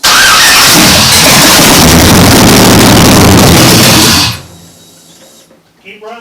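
A Camaro engine cranks and fires for its first start, running loud and rough with a dense roar for about four seconds before cutting out abruptly, leaving quiet shuffling and faint noises afterward.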